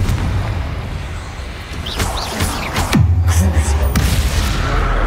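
A Confringo blasting spell erupts in Hogwarts Legacy: a deep, loud boom lands with a sharp crack, followed by rumbling combat effects and softer magical whooshes around it.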